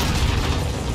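RPG rocket blast in the shooter Modern Warfare, a loud, dense, low rumbling explosion filling the whole second with sustained roar and no speech.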